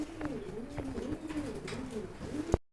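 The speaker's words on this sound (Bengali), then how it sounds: "ইন্দোনেশিয়ান শৌখিন কবুতর" Indonesian fancy pigeons coo steadily in a continuous, warbling series of low phrases heard close by, ending with a sharp click.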